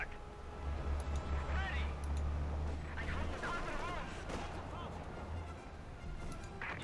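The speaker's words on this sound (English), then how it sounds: "Bit of shooting there, guns being forced back up with the sniper." Gunfire in Company of Heroes 2, a World War II strategy game, with scattered distant shots and rattling bursts under continuous battle noise, with a commentator talking over it throughout.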